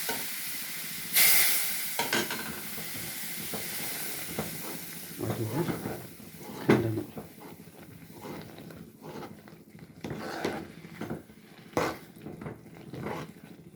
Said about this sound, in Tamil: அதில் இந்த கொதிக்கிற எண்ணெயை கொஞ்சம் கொஞ்சமாக ஊற்றி இந்த மாதிரி ஊற்றி அப்படியே கிண்டணும்